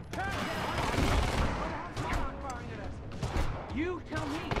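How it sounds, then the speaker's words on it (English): Bursts of gunfire in the Quantum Break video game, several volleys of shots across a busy mix with voices talking throughout. "You heard the gunfire."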